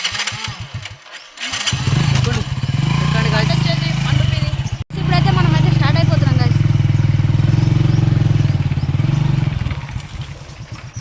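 A motorcycle carrying four riders runs with a steady, loud engine drone throughout, briefly cutting out midway before resuming, while people talk over the engine noise.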